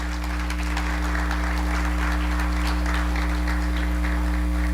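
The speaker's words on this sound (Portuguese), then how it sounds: "Você pode glorificar o Senhor, pode aplaudir o Senhor, em nome de Jesus." A church congregation claps during a sermon, a dense, even patter sitting over a constant low electrical hum that runs throughout.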